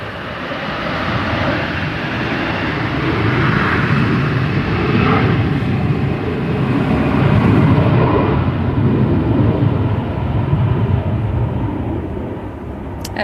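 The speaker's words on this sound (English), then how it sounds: "As Matt said, it's a A340 tailwind takeoff." Airbus A340 making a tailwind takeoff at gusty Manchester Airport, a loud, sustained jet engine roar that swells and holds for the whole stretch, with wind noise and no voices.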